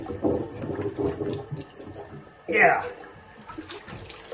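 Water surges and gurgles in a clogged toilet bowl, a loud rushing burst partway through, with someone talking before and around it.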